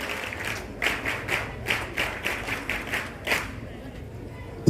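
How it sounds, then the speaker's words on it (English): Pupils at a primary school exhibition and harvest festival clap in a rhythmic pattern of distinct, evenly spaced bursts, moderately loud and close, with background voices from the crowd. "Our dear candidates, clap the parents."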